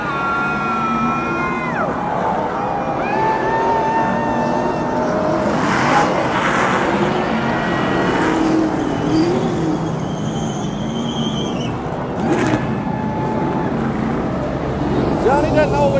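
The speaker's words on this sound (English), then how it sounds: "We're getting ready for a burnout from this 21 truck." A NASCAR Truck Series No. 21 truck does a victory burnout at Charlotte Motor Speedway in Concord, North Carolina. A loud, sustained engine roar and tire noise blend with crowd din, swelling and surging for about sixteen seconds.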